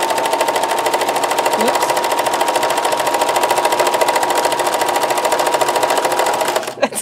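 A sewing machine runs steadily, stitching a denim notebook cover right side up, with a loud continuous whirring rattle that stops abruptly near the end, where a brief spoken exclamation is heard.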